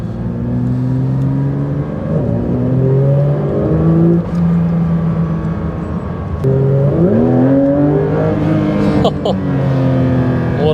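A Porsche 992 GT3 RS engine revs loudly and close, its tone climbing and falling through several rises with a brief dip before surging again, with faint speech mixed in.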